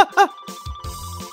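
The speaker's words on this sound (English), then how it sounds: "Phone call!" A telephone rings in a video game, two short ringing bursts near the start followed by game sound effects and low tones, loud and close.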